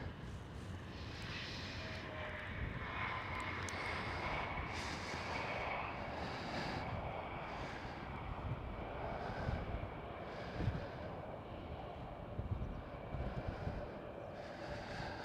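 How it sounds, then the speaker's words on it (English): KLM Cityhopper Embraer E175 regional jet at Amsterdam Schiphol, a faint, distant steady engine rumble with a thin high whine across fifteen seconds, with no talking. "Right here we do have a KLM Cityhopper E175, the smallest of the KLM fleet."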